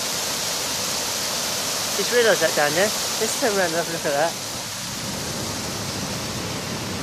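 A water feature at Liverpool Street station flows and drains, giving a steady, close rushing hiss that runs throughout while someone speaks briefly over it.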